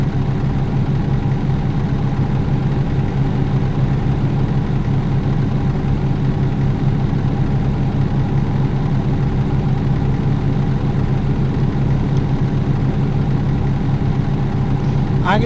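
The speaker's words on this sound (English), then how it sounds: "use a default engine. They're the only ones that had sound" A low, steady truck engine idles continuously in American Truck Simulator, with a constant rumble and faint hum, unchanging throughout with no other notable sounds.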